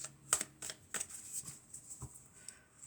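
Oracle cards are shuffled by hand in a quiet room, producing several quick, crisp riffling flicks in an irregular rhythm, close and fairly soft, with no talking.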